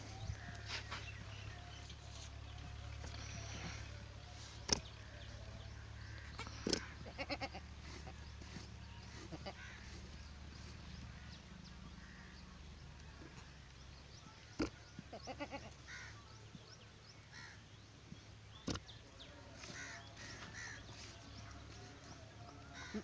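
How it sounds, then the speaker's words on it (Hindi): Desi goats bleating in a quiet farm setting, several faint calls scattered over a low rumble, with occasional sharp knocks and clicks nearby. "देसी बकरी, खास देसी।"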